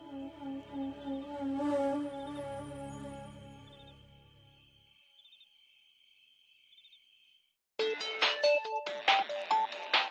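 A phone call placed during a scene in a Marathi TV serial: a tonal ringtone-like melody fades into a steady electronic ringing tone, then a sharp burst of busy, clicking electronic sound comes near the end, with no talk.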